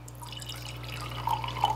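A 3% Epsom salt solution pours into a mixing cup, heard as a faint, steady liquid trickle with a few small drips toward the end over a low background hum.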